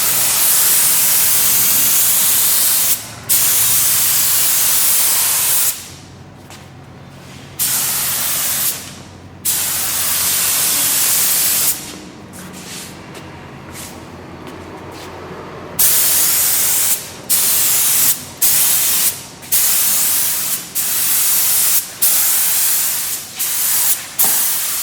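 A spray gun lays clear coat on a plastic bumper cover in loud, hissing bursts. Long sprays give way to shorter and shorter pulses, separated by brief silences when the trigger is released.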